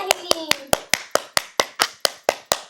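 Sharp, evenly spaced hand claps ring out close by, about a dozen in a steady rhythm, with a singing voice briefly audible at the start.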